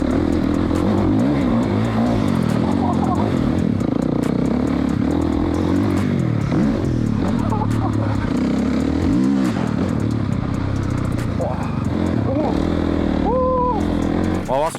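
A car engine accelerates on a frozen snowy track, loud and close with a constant revving drone and shifting pitch, while people talk over the engine.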